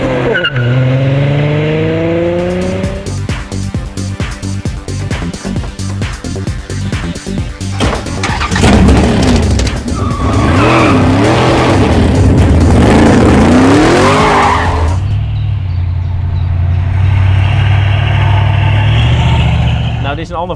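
A supercharged V8 car, its supercharger not working, is driven hard through corners with tires squealing; the loud, revving engine and screeching tires continue throughout, with someone talking over them at times.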